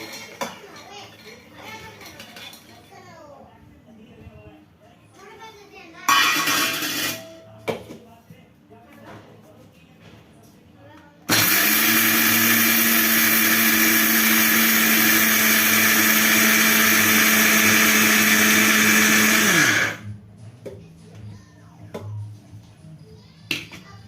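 A mixer grinder grinding peanuts whirs loudly for about eight seconds before winding down, with a brief burst earlier and people talking and clinking around it.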